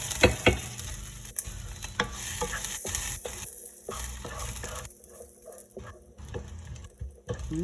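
Misua noodles with sardines and browned garlic being stirred in a frying pan: close, steady sizzling with repeated utensil scrapes and taps against the pan, no talk.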